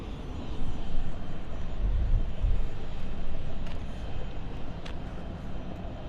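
An airliner on the Berlin flight arrives at London City Airport, a steady broadband jet rumble heard from a distance, swelling slightly and then easing, with no talking.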